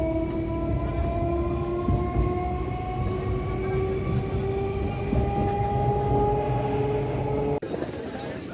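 Local commuter train out of Sealdah rolling steadily along the rails, a continuous loud rumble with sustained tonal whine, close and inside the carriage, cutting off abruptly near the end.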